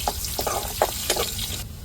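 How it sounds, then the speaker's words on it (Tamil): Fish fries in hot oil in a home kitchen pan, giving a close, steady sizzle with brief spitting crackles. No one speaks. "இதுலேயே எண்ணெயை ஊற்றி நல்லா சூடேறவும் மீனை பொரித்து எடுத்துருவோம்"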